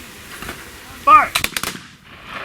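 An honor guard firing a rifle volley at a military cemetery ceremony, one loud sharp blast followed by a quick rattle of echoing reports that fade off outdoors.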